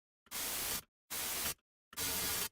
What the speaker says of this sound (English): We instantly get comb filtering.